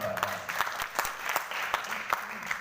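Scattered audience applause at a seminar, with irregular individual claps over a lingering background of voices.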